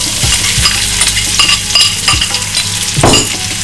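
Shallots sauté in a hot pan for green chicken curry, a steady loud sizzle running throughout with a few scraping stirs and utensil clinks against the pan.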